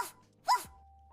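A dog gives a single sharp bark, close and fairly loud, after a short opening yip, with quiet background hum around it.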